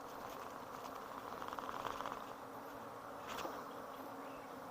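Honeybees hum around their hive in a dense, steady drone, a close swarm with buzzing that rises slightly in the middle, heard without any voices.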